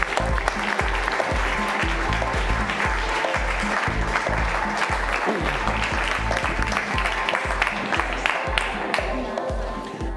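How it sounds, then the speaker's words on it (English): A large conference audience at Swell by Ripple applauds to welcome a keynote speaker, a loud, dense and continuous roar of clapping that carries on for about ten seconds with crowd noise mixed in. "please join me in a round of applause and welcome Don Tapscott"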